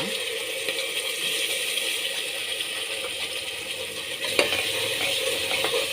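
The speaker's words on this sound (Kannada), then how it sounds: "ಇದನ್ನು ಚೆನ್ನಾಗಿ 1 ನಿಮಿಷ ಫ್ರೈ ಮಾಡೋಣ." Ground masala for a puri vegetable saagu fries in a pan with a steady sizzle and faint scraping stirs, continuous and close with no voices.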